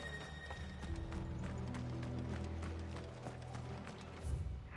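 Horses gallop in Final Fantasy XVI, a rapid, continuous clatter of hooves at moderate volume over low ambient game music, with no speech.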